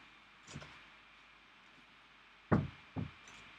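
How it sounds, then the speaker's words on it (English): Knocks at a door heard in a quiet room: one soft tap, then a pause and two sharper raps close together near the end, otherwise near silence. "Someone's at the door"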